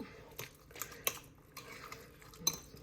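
Utensils clink and scrape against a bowl while burrito bowl ingredients with lime are stirred together, a few distinct sharp clanks standing out over soft, intermittent mixing noise.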